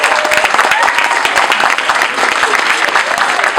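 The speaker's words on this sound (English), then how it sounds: "give Ms. Kersey one more round of applause" A school audience at a high school poetry evening claps loudly and continuously, a dense round of applause with voices mixed in.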